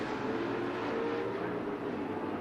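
Open wheel modified race cars roar together around a short bull ring oval track during a B-main, a dense, steady engine drone holding at constant loudness from start to finish with no voices.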